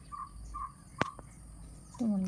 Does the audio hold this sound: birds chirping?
yes